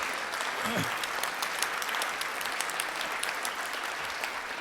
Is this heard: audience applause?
yes